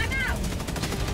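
Gunfire in the video game Helldivers 2, a dense burst of rapid shots during a fight with a Hulk, with a voice briefly audible at the start.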